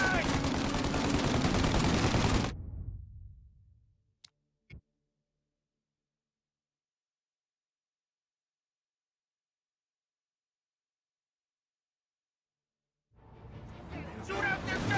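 Gunfire from a shootout in Mafia: Definitive Edition crackles loudly alongside shouting voices for a few seconds, then falls into a long near-silence with two faint clicks, and the loud noise resumes at the very end.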